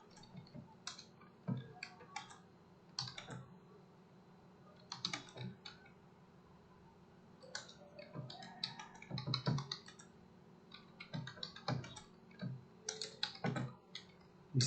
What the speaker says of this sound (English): So type in the message again.